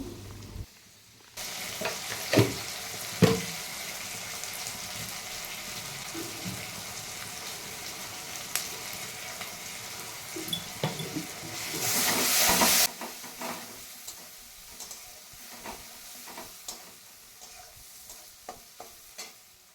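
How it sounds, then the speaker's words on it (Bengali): Potatoes frying in a pan give a quiet, steady sizzle with scattered clicks and scrapes of stirring, and one short louder burst of hiss partway through. "আলুটা এখানে ভালো করে ভেজে নেব প্রথমে"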